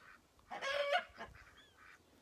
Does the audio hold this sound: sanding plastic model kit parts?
no